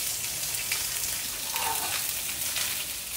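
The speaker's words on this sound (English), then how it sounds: "We're gonna let the vegetables cook, let the potatoes cook." Vegetables and potatoes fry in a pan with a steady, even sizzle and crackle, close by and continuous throughout, with no one talking.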